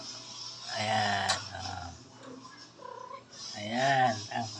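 A mother cat wanting to be let outside gives two long, drawn-out wavering yowls with softer murmuring sounds between them, close to the microphone.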